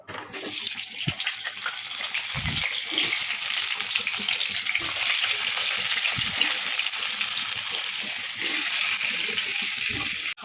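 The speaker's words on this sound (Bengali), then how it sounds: "এখন আলুটাকে ভেজে নেব।" Potatoes fry in hot oil in a wok, giving a dense, steady sizzle that stays loud and close throughout with no talking.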